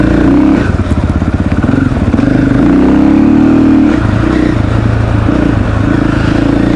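A KTM 500 EXC-F dirt bike engine runs loud and close, its single-cylinder exhaust rising and falling through throttle blips with a steady rapid pulse and no voices over it.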